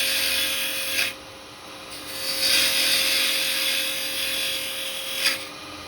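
A carbide chisel scrapes against a small Japanese lidded box spinning on a woodturning lathe, a steady close rasping hiss over the lathe's hum, with brief louder bursts as the cut bites.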